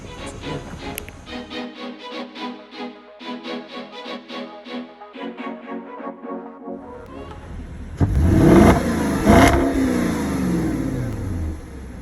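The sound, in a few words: 2005 Porsche Cayenne S engine driving off road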